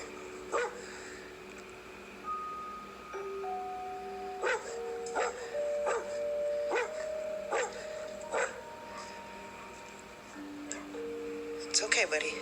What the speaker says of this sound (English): it seems that Bet's dog is a little freaked out as well